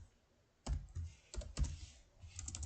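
Quiet bursts of typing on a computer keyboard, a few quick clustered keystrokes with short pauses between them, close and alone.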